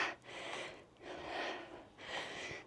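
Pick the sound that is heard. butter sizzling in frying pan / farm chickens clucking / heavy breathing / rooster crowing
heavy breathing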